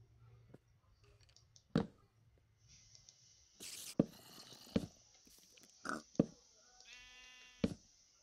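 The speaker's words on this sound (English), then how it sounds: "the piggies are nice" Pigs grunting and oinking in a modded Minecraft survival game, with a few short squeals and clicks spread across the clip, faint and game-like against a quiet background.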